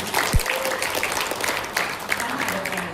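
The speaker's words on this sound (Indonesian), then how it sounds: "Tepuk tangan buat Tuhan." A church congregation at a women's worship service breaks into applause, a steady dense patter of many hands clapping that holds for a few seconds, mixed with faint voices.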